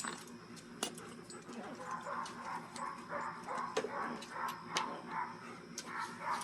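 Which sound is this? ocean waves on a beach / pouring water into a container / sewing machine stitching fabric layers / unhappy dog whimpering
unhappy dog whimpering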